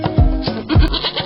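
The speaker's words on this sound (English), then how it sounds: "The sound of goat is" A goat bleats twice in quick succession, close and loud, two short wavering calls with nothing else heard.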